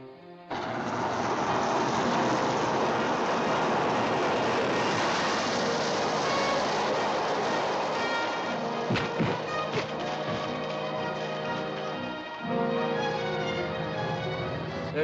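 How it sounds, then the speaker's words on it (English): A train in a radio drama sound effect rumbles steadily and loudly with a broad rushing roar, a few sharp knocks and clanks breaking in partway through, and no voices. "But Batman and Robin will be there when the package is thrown from the train."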